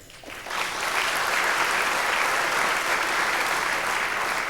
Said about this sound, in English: go ahead and applaud them, absolutely